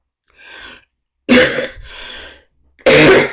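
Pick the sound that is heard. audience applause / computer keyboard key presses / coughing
coughing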